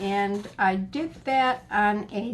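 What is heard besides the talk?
None of the usual background noises is heard.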